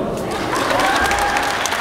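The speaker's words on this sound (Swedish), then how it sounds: "en stor applåd." A big round of applause from the audience at the Swedish talent show Talang, loud dense clapping with some cheering tones, lasting under two seconds.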